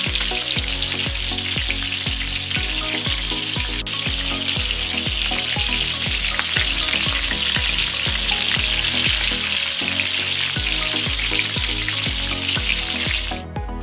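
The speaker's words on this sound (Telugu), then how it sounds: "ఈ చికెన్ పీసెస్ని హీట్ అయిన ఆయిల్లో వేసుకుని ఫ్రై చేసుకోవాలి." KFC-style chicken popcorn pieces deep-frying in hot oil, with a loud, dense, continuous bubbling sizzle close by that holds steady throughout, under a regular pulsing rhythm of low thumps.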